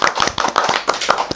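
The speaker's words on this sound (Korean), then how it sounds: "박수로 환영하도록 하겠습니다. 박수!" A short burst of applause welcoming a guest on a talk show, a handful of people clapping in quick, uneven claps at close range.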